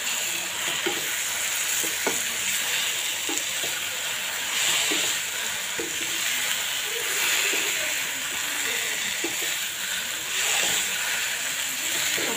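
Taro leaves (kochu shak) frying and being stirred in a pan, giving a steady close sizzle and hiss with repeated scraping and stirring clicks throughout, no talking.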